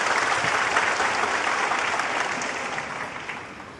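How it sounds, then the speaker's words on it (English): Snooker crowd at the Shanghai Masters 2024 semi-final applauding a frame ball, a dense, steady wash of clapping from a large audience that stays loud and slowly tapers over a few seconds. "Applause for frame ball."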